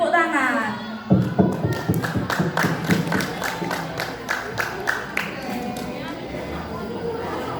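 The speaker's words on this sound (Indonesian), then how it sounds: "Beri tepuk tangan." Clapping and cheering from a crowd at a school festival stage show start abruptly after a second, with thuds and taps mixed in, then taper into a steady, fainter patter of applause.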